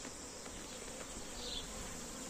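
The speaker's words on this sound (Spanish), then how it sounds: "Qué pedazo de enjambre tenemos aquí" A dense swarm of honey bees drones in a steady, close, continuous buzz that fills the air, with no voices over it.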